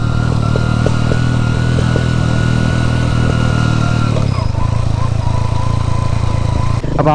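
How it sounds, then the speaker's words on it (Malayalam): A motorcycle running close by on a road at Karadipaara in Attappadi, Palakkad, its engine humming loud and steady with faint irregular crackles from the silencer under the drone. "സൈലൻസർ അല്ലേ പൊട്ടുന്നേ?"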